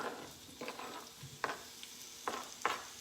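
Pear pieces go into heated butter in a pan, producing a soft sizzle broken by several sharp clinks and scrapes of a utensil against the pan, fairly quiet and close.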